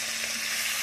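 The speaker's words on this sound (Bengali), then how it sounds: "এই যে ইলিশ ভাজা, ইলিশ ভাজা" Hilsa fish fries in a pan, a loud, continuous hiss of sizzling oil filling the whole brief moment with no voices.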